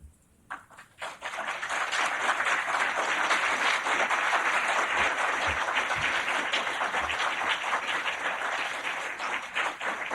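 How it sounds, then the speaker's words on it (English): A large audience bursts into sustained applause after a sermon on St. Pius X, with a few scattered claps at the start building into a dense, steady roar of clapping that lasts throughout. "Thank you for having applauded St. Pius X."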